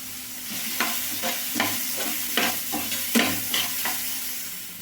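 Spices fry in a pan with steady broadband sizzling while a utensil scrapes and stirs in about eight irregular strokes, close and fairly loud; the spices are cooking for homemade pasta.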